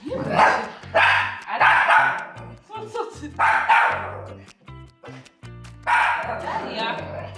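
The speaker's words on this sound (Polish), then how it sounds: "Cicho, nie szczekaj." Dog barks in short bursts at a new baby, deep woofs and yips scattered between people speaking calmly and trying to hush it.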